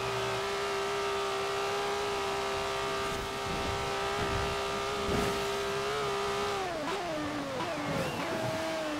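Ferrari 512S engine in Forza Horizon 4 holds a steady, loud tonal drone with strong harmonics, then pitch dips and shifts near the end as revs change, with no talk over it.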